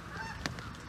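Canada geese honking faintly in the distance, a brief call standing out over a quiet outdoor background.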